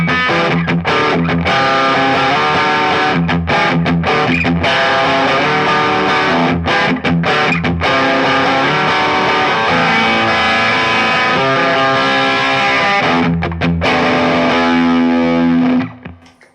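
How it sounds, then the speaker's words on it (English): Electric guitar played through a super overdrive for a classic rock gain tone, thick and saturated, with chords ringing continuously, brief gaps between phrases, and a final chord fading out. "classic rock, classic gain with the super overdrive engaged"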